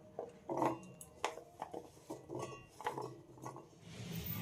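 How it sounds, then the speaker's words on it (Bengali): Hand-cut chunks of carrot dropped one after another into a blender jar, giving a string of light, close clatters and knocks, quiet and uneven, with no one speaking. "এবার গাজরগুলো ব্লেন্ডারের মধ্যে দিয়ে দেব।"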